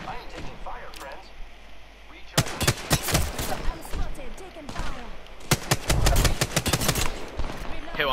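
Apex Legends gunfire crackles in loud, rapid bursts, first near the middle and again toward the end, over game ambience with players talking.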